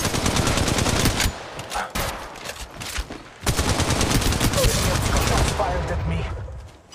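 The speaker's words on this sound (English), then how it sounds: "The second squad is firing at us." Sustained automatic gunfire in the mobile battle royale game Apex Legends Mobile, played in third-person view: dense, rapid bursts fill nearly the whole stretch, broken by a brief lull before a second long volley.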